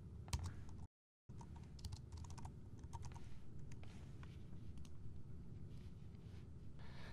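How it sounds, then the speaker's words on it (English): Rapid, quiet clicking of keys on a computer keyboard as a company name is typed, a close, continuous patter with one short silent gap near the start. "Now I'm going to write in my company name."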